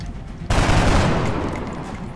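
In the XCOM: Enemy Unknown video game, a dense, loud burst of gunfire erupts abruptly and rattles on for over a second before tapering off.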